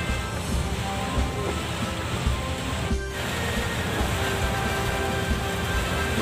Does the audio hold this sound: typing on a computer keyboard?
no